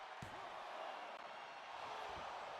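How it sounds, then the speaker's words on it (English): During a wrestling match, a sharp body slam hits the ring mat, followed moments later by a second thud, both set against a steady roar of crowd noise. "And slamming him and going for another pin."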